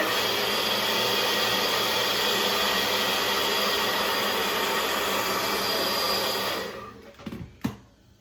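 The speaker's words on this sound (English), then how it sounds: "And that is how I blow dry my hair." A hair dryer blows steadily and loudly while hair is brushed and smoothed, the broad roar running unbroken for about six and a half seconds before cutting off, followed by a few handling knocks.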